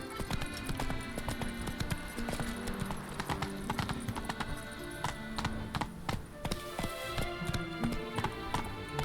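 Galloping horse hooves in the video game Witcher 3: Blood and Wine pound in a fast, rhythmic clip-clop, loud and continuous, with an occasional whinny and a brief voice urging the horse on.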